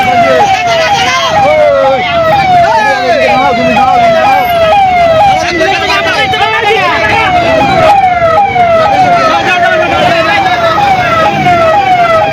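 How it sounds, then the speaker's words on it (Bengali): An ambulance siren wails loud and close in rapid repeating up-and-down sweeps as it passes along a road in Rampal, over a bed of traffic noise and some voices. "অ্যাম্বুলেন্স কিছু পাস হচ্ছে দেখতে পাচ্ছেন।"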